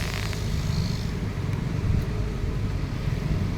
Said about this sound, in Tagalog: Dito madalas nagka-traffic